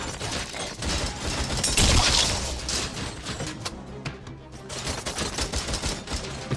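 Rapid, dense gunfire from the video game RoboCop Rogue City, with bursts of automatic shots and impacts crackling continuously and loudly throughout.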